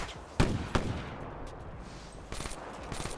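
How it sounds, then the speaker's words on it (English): Gunfire in the Black Ops 3 video game, two sharp close shots in quick succession and then a later flurry of fainter, rapid distant shots. "And we have gunshots."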